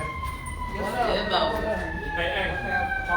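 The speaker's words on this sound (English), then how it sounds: "We got some sirens happening right now." Emergency vehicle sirens wail steadily from outside at moderate distance, rising and falling in pitch, while people nearby talk over them.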